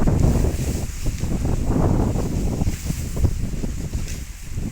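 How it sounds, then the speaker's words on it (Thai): Strong wind roars and buffets the microphone continuously, a loud low rumble that surges and eases throughout. "ลมแรงมาก"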